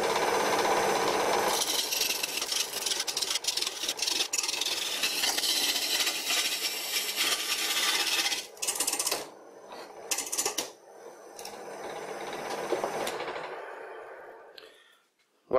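A homemade wooden wood lathe spinning while a homemade gouge cuts the turning workpiece, a steady raspy scraping chatter that cuts out briefly, returns in short bursts and then stops.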